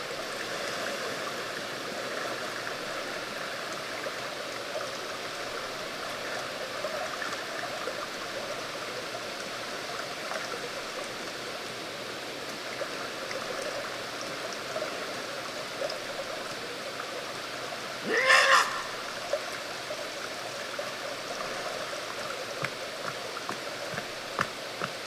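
Water in the video game Sons of the Forest makes a faint, steady trickling stream-like wash, with one brief splashy burst partway through and no speech.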